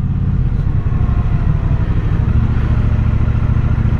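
A 2021 Triumph Speedmaster motorcycle rides at low speed on a country road, its engine thrumming and clattering steadily, loud and close for several seconds with no talk over it.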